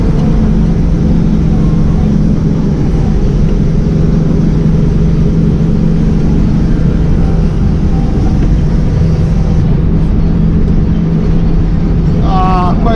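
A vehicle descends in low gear under engine braking, a loud, steady engine drone with rumbling road noise running throughout.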